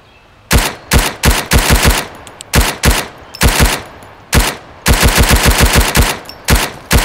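Automatic weapon fire from the survival shooter Road to Vostok rings out in sharp, loud bursts, short rapid strings of shots separated by brief pauses, close and alone.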